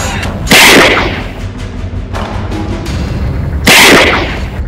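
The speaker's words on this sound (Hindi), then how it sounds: "बंदूक से फायरिंग कर रहे हैं। हाथ में बंदूक, हवा में ठाए ठाए" Two loud, sharp gun blasts fired into the air a few seconds apart during a drunken dance celebration, each with a booming echo, over a busy background of crowd noise and music.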